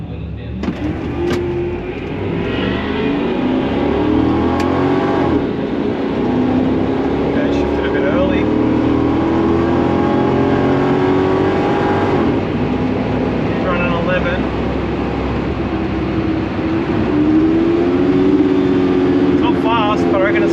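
A stock Holden VY SS at a drag strip revs hard and then launches, its loud V8 roar rising and falling through the gears close by. The engine drone is steady throughout, and a voice can be heard over it.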